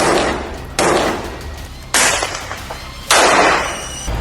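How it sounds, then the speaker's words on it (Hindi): Three sharp, loud blasts about a second apart, each a sudden broadband burst that decays, fitting explosions from an Israeli strike in northern Gaza; no voices. "तभी एक जोरदार धमाका होता है और सब कुछ खत्म।"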